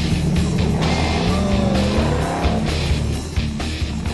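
A 4x4 rig, restored and back on the road after about six years, driving off-road tracks: a steady engine drone runs throughout with shifting revs, rumbling loud and close with no talking.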